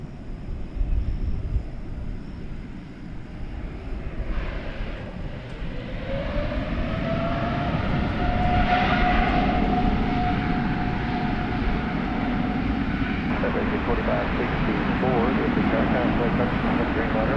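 A Qantas Boeing Dreamliner taking off from runway 18 left at DFW International Airport, a broad jet roar that swells and brightens over several seconds into a sustained loud rumble, heard from a distance with radio chatter over it.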